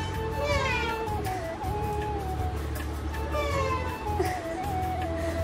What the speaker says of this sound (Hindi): सबसे ज़्यादा याद मुझे अपनी बिल्ली की आ रही है वो ऐसे बोलते हैं